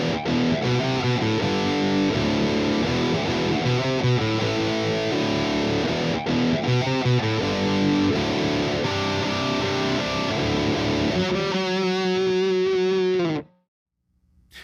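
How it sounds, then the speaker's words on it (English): A distorted electric guitar in drop D plays a driving rock riff. It is loud and dense throughout, then cuts off abruptly just before the end. "and the distortion kicks in."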